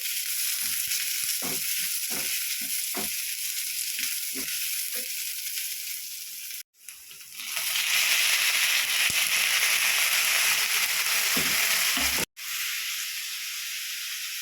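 Sliced chayote fries in coconut oil in a pan with a loud, steady sizzle. The sizzle drops out briefly twice, and soft knocks of stirring sound early on.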